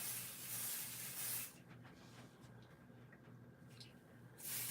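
Light-tack adhesive spray is sprayed from a can onto paper, two bursts of close, steady hissing separated by a quiet pause.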